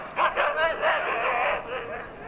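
Several sled dogs bark and yelp excitedly together before a race, a dense, overlapping chorus of high yips and whines close by.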